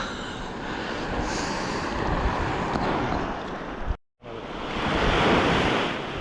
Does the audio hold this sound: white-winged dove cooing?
no